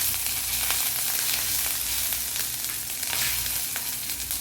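Ginger garlic paste with fenugreek seeds fries in hot oil for a prawn kofta curry, a loud, close, continuous sizzle with occasional stirring scrapes and no talking.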